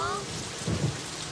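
Thunderstorm sound effect with steady heavy rain hissing throughout and a low thunder rumble swelling near the middle, dense and close with no voices.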